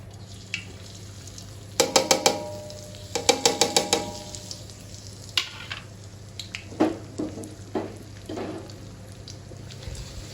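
Turmeric and chili powder hitting hot oil for mango pickle, producing bursts of crackling sizzle and stirring clatter, close and intermittent over a low hum.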